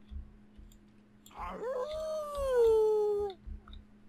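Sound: werewolf howling in video game The Sims 4

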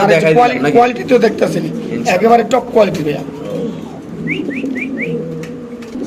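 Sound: Spanish pouter pigeons cooing

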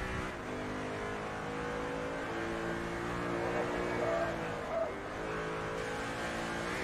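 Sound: Corvette race car engine in video game Forza Motorsport 3

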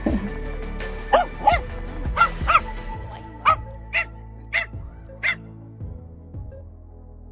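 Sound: dogs barking

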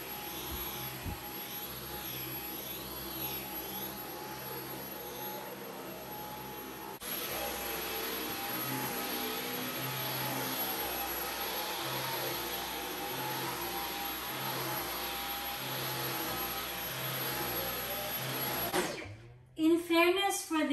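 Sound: Dyson V11 Absolute Extra vacuum cleaner on medium mode

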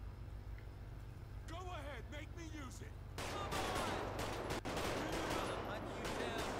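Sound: gunfire in video game GTA 5

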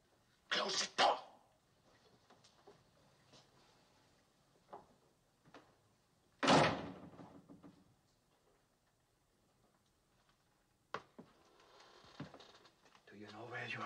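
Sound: door closing

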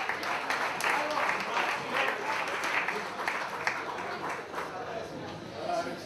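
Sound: audience applause for a basketball player

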